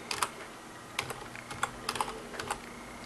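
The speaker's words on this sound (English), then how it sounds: "And you're going to type in ipconfig." Quick bursts of keystrokes on a computer keyboard as a short command is typed into a Windows command prompt, clustered taps with brief pauses, close and fairly quiet, no voices.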